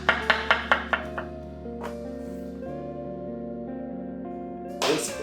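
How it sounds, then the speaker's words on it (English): A knife chops food into small pieces on a board, with five or six crisp, evenly spaced knocks up close, then a steady tonal hum with another thump near the end. "So then I'm gonna slice them in the small pieces"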